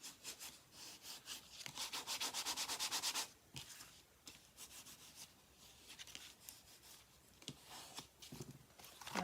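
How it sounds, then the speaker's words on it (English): Paper on a gift box being burnished firmly by hand, a dry rubbing scrape in quick back-and-forth strokes, a dense burst at first, then scattered softer rubs, close and quiet with no talk. "now I'm giving it a good firm burnish."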